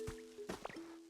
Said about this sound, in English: Start by using Water Gun to restore some plants.